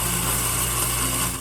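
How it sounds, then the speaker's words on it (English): An N600 coffee grinder grinds coffee beans, a steady high-pitched motor whine with a dense grinding rasp that holds even and loud for the whole stretch, easing slightly at the end. "Alexa, grind coffee."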